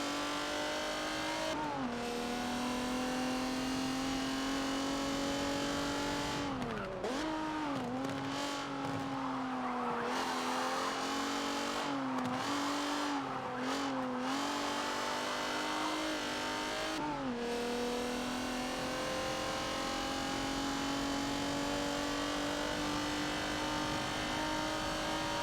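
Race cars scream around a circuit in Forza Motorsport 7, the engine's steady high drone holding, then dipping and climbing with gear shifts and braking, loud and continuous throughout.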